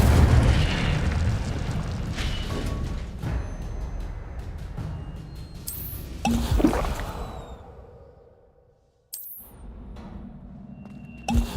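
Booming bursts and crackling blasts as an Incendio fire spell is cast in the video game Hogwarts Legacy during a fight, loud impacts that fade and then drop out briefly before more rumbling resumes.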